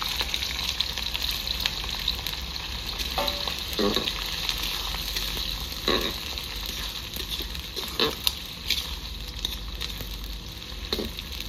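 Chopped onions fry in hot oil for Rajasthani-style mutton cooked the rustic village way, giving a steady, dense sizzle with faint stirring scrapes now and then, and no talking.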